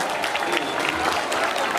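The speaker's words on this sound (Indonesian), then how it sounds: "tepuk tangan santri putra." An audience of Islamic boarding school students applauds for the male students, a dense, steady wash of clapping from many hands, fairly loud and unbroken.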